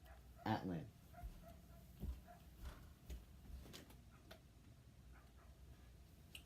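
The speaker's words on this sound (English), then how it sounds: "that was my dog." A pet dog gives a short, faint bark or two at a distance, followed by quieter scattered thumps over a low background hum.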